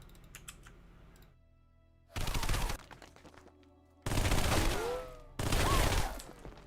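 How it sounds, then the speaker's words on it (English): SMG gunfire from Halo 3 comes in three separate bursts of rapid automatic fire, each loud and lasting about a second, with quiet gaps and a little soft clicking between them. "the sound will be weapons, SMG"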